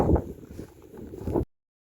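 Wind blows outdoors in frosty, snowy weather around five degrees, buffeting the microphone in low, gusty rumbles before cutting off abruptly.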